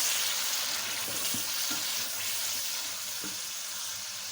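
Tomato paste is stirred into browned onions in a karahi, a soft continuous sizzle with faint scraping strokes of the spoon, fairly quiet and without talk.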